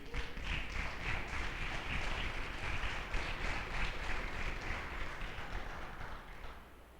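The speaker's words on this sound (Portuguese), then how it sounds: "Dá palmas para Jesus aí." A church congregation claps together during a sermon, a dense sustained crowd applause holding steady for several seconds before tapering off near the end.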